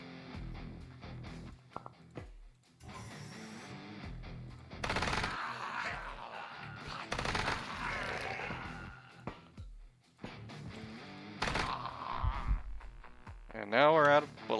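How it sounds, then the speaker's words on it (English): Heavy machine gun fire in the game Quasimorph, heard as bursts of rapid shots at moderate loudness with gaps of quieter game sound between them. "I'm actually gonna switch over to the heavy machine gun"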